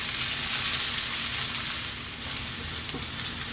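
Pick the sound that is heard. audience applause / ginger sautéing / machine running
ginger sautéing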